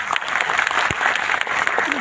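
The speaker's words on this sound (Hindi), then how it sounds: "तो पैसा कमाना तो तालियां तेज बजानी पड़ेगी" A seated audience at an Indian business distributor meeting claps loudly and continuously, with a few voices and shouts mixed into the steady rattle of applause.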